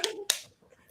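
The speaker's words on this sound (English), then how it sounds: "Everybody finna clap." Two sharp claps, one short pair of hits, from a group clapping along to a song, loud and close, with no voices over them.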